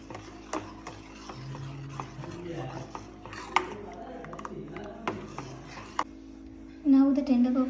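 Grated coconut pulp stirred into boiled milk for tender coconut pudding, with light scraping and clinking of a spoon against a pot, intermittent and fairly quiet, plus a few sharper knocks.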